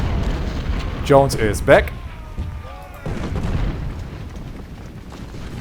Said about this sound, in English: Our artillery is simply tearing them apart